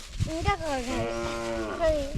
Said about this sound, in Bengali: দেখেন রিফাতের পোষা ছাগল